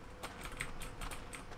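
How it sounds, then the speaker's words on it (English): Rapid clattering keystrokes on a noisy mechanical computer keyboard, a steady run of sharp clicks with a few louder taps, close to the microphone. "my keyboard's mechanical. So it makes a lot of noise."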